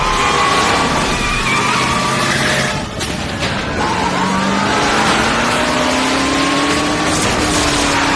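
Engines roar and rev continuously as several cars race close by in a chase, a loud, busy mix of motor drone and shifting pitch.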